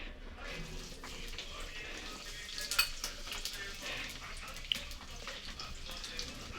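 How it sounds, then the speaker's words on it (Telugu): Mustard seeds splutter with cumin and onions frying in oil for a tempering, a soft continuous sizzle with faint pops and a couple of sharp clicks, fairly quiet and heard alone. "ఆవాలు చిట్టుపట్టు అన్నాక జీలకర్ర ఉల్లిపాయలు"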